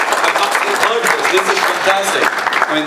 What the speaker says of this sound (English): let's give a big round of applause for the